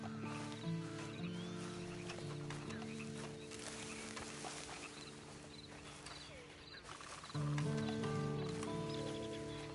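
A horse snorts and whinnies near a steady music bed, with faint hoof thuds and a louder swell of sound toward the end.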